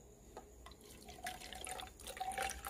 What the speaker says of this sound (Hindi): पानी डाल देंगे, लगभग इतना।